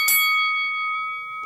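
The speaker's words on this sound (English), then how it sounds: "the boxing bell" A single strike of a boxing ring bell rings out sharply, then a clear metallic tone lingers and slowly decays, with a faint tap right at the end.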